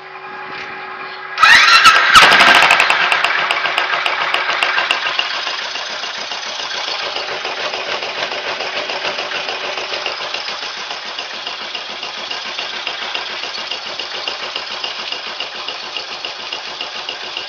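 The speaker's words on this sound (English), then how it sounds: "So I'm going to start the bike for 10 minutes." Motorcycle engine after an engine flush, started with a sharp crank and catch, then settling into a steady close idle that runs on evenly and loud, with no talk.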